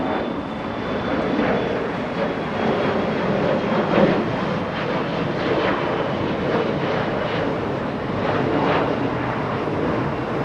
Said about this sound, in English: SkyWest 3405 flying to Salt Lake City, that one, and a little Embraer E175.